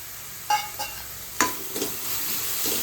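Grated coconut filling with cardamom and nutmeg is mixed in a pan, with a few scraping stirs and clinks over a low sizzle, close and moderately quiet with no talking.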